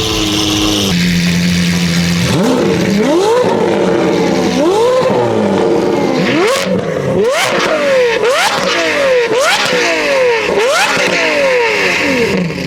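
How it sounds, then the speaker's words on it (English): A Lamborghini Aventador and a Ferrari 488 GTB rev in a rev battle in Mexico, with repeated sharp throttle blips rising and falling in quick succession, loud and close, alternating bursts growing more rapid toward the end. "We're about to do a rev battle."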